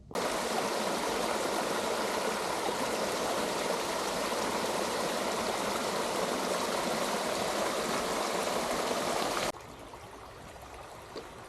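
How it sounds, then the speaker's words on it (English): A partly man-made waterfall at High Cliff State Park rushes in a loud, steady, broadband roar for about nine seconds, then drops off sharply to a much softer background hiss. "there is always apparently a waterfall here, although it's not entirely natural in flow"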